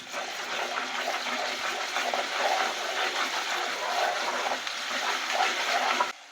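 Water is poured into boti (goat tripe) curry cooking in a pan with ginger-garlic paste, a steady close splashing gush that lasts about six seconds and then stops abruptly.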